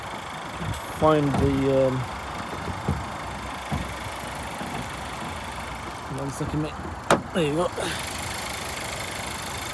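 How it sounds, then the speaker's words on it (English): An Audi A4 engine idles in a low, steady hum throughout while someone speaks briefly over it. "You can hear the engine"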